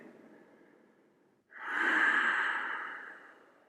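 A forceful breath during a beginners' Hatha yoga pose: a quiet stretch of soft breathing, then a sudden loud, airy exhale or snort-like rush that swells and slowly fades over about two seconds.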